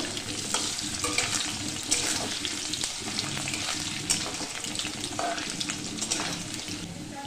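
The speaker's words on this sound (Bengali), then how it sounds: "দিয়ে আলুটাকে একটু ভালো করে ভাজা করে নেব।" Potatoes fry in a kadai of oil tempered with whole cumin and bay leaf, giving a loud, continuous sizzle with stirring scrapes and small crackles, and no voices.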